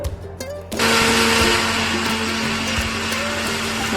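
A mixer grinder whirs loudly, grinding garlic into paste; the motor kicks in after a brief quieter moment and runs as a steady, close, high-pitched drone.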